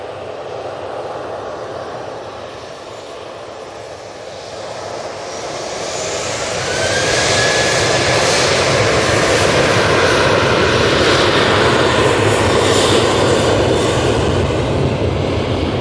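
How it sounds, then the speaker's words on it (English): A Jet2 airliner takes off from Manchester Airport, its engine roar building from a moderate rumble into a loud, sustained thunder that holds steady to the end, with no voices. "Jet2 off to Malaga"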